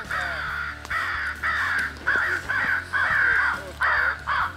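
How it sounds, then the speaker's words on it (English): A big crow caws repeatedly outdoors, about eight loud, harsh calls in a steady rhythm, close and clear with no talking. "Big old crow."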